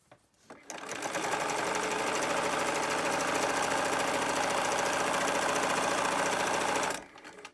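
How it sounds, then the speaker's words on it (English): A sewing machine stitches fabric mask ties in one continuous run of rapid, even mechanical chatter lasting about six seconds, close and alone, starting and stopping abruptly. "just run it through my sewing machine"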